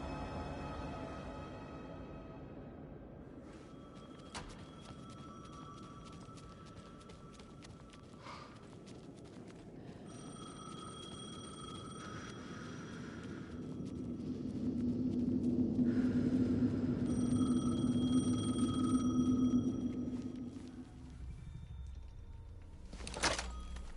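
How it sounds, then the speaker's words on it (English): A phone rings in Alan Wake 2, repeated electronic ring tones sounding in separate bursts over a low ambient rumble and hum that swells in the middle. "Phone again."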